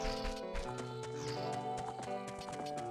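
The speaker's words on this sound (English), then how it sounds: "There's a horse out of the pen." Steady clip-clop of horse hooves in an even rhythm, moderately loud, over the bright musical soundtrack of the game Ocarina of Time.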